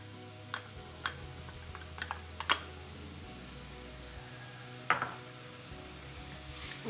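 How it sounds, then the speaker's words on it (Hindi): Chopped onions in heated oil give a faint, steady sizzle, broken by a few sharp ticks and clinks of utensils against the pan, over a low background hum. "अब ये हीट अप हो गया ऑयल, इसमें हम डाल देंगे सारी प्याज।"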